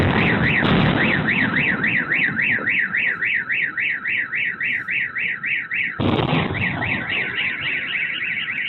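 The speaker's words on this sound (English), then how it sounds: "And the car alarms are going wild." A car alarm wails in a rapid, steady warbling cycle, loud and close, briefly cutting off and restarting partway through.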